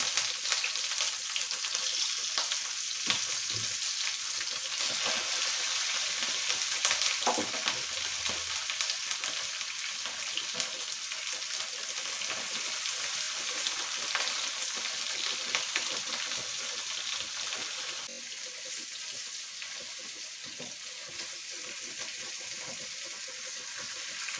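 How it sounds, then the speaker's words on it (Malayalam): Thada fish fries in a pan of hot oil, giving a continuous, dense sizzle and crackle that stays close and fairly loud throughout, easing slightly toward the end with faint stirring underneath. "നമ്മുടെ മീൻ പൊരിക്കാനായിട്ട് വെച്ചു"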